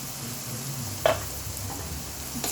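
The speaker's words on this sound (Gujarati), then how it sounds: "હવે આપણે એમાં નાખી દઈશું ઝીણી કાપેલી પાલક।" Finely chopped spinach hisses in a hot pan as a steady, soft sizzle, with one quick scrape or clink partway through and no voices.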